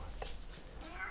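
A domestic cat gives a single short, close meow, then a fainter follow-up sound over quiet room noise. Nobody speaks.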